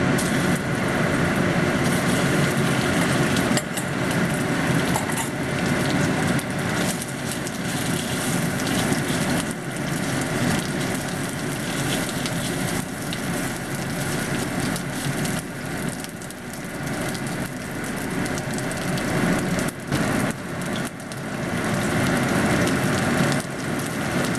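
Shrimp and cauliflower cooked with sa cha sauce steam and sizzle in a hot pan over high heat, a dense, continuous hiss that holds steady and close throughout with no voices over it.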